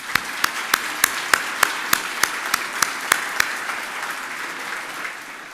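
An audience at a community awards ceremony claps in a crisp, evenly spaced rhythm, the sharp beats then dissolving into looser, softer applause as it trails off.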